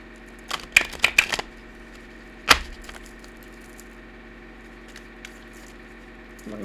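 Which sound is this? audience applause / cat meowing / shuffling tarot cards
shuffling tarot cards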